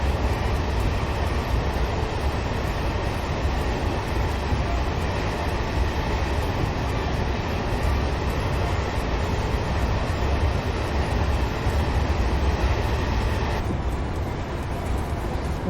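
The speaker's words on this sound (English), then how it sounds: "And this local commute train" A local commuter train runs from Derby to Matlock through snow, giving a steady, loud rumble and rolling rail noise that holds for the whole stretch and shifts slightly in tone near the end.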